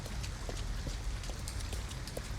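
Rain falls in the video game Detroit: Become Human, a steady wash of patter with scattered drop ticks and a low ambient rumble underneath.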